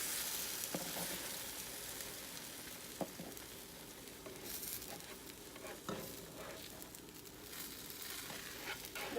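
Homemade French toast sizzles steadily in a hot pan, a close, continuous crackling fry with occasional soft scrapes and taps from the utensil, and no one speaking.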